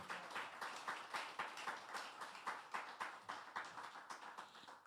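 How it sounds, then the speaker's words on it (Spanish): A church congregation claps together in a steady rhythmic beat, many hands at once, loud and sustained throughout. "Dale un aplauso a nuestro"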